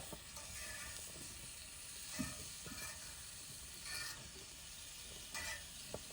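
Blackened catfish sizzling in a pan on a riverside cook, a steady faint hiss with a few soft scraping stirs and light knocks scattered through it.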